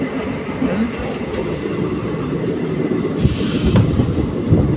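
A passenger train runs on the Hyderabad to Chennai route during a night journey, heard from inside as a steady rumbling roar with faint clickety-clack of wheels over the rails and occasional sharper metallic ticks.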